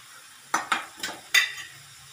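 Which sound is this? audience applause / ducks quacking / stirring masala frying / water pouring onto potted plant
stirring masala frying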